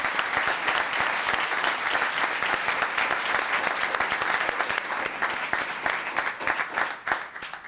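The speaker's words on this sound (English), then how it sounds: "So let's give a round of applause for this guy." An audience at a Los Gatos town council meeting gives sustained applause, many hands clapping in a dense, even patter that stays steady and fairly loud before tapering slightly at the end.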